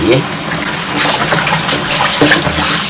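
Chicken legs being rinsed under running water in a home kitchen, a loud continuous gushing stream with splashing as the meat is turned, and a voice speaks over it.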